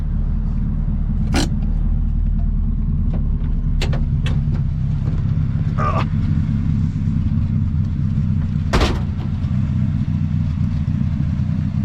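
A 1972 Ford Pinto Runabout driving along after a shift into second gear, its engine a steady low rumbling drone from inside the car, with a few sharp clicks and clunks on top.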